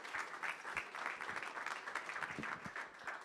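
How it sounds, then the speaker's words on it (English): An audience claps steadily for the judges and finalists at a startup pitch competition, a dense, even round of applause with no speech over it. "Another round of applause to our judges and to all the finalists who presented."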